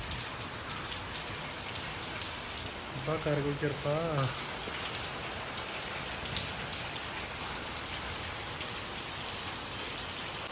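Steady rain falls throughout, a dense wash of patter, while a voice speaks briefly near the middle.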